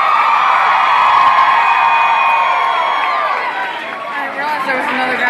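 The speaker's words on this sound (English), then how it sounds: "please give a big, big round of applause for my buddies up here on stage with me tonight" Concert crowd cheering and whooping as a country music show goes on, a loud, sustained roar of many voices that fades slightly toward the end.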